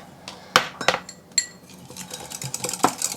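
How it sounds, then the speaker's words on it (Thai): A utensil stirs keto waffle batter in a bowl, scraping and clinking against the sides in several close, uneven strokes. "คนผสมให้เข้ากัน"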